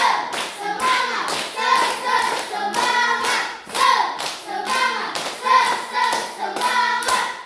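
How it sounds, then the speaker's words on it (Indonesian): A class of schoolchildren claps along to a rhythmic chant, loud repeated bursts of hand claps and thumps in steady patterns with voices chanting together throughout. "tepuk satu semangat, tepuk dua semangat, tepuk tiga semangat"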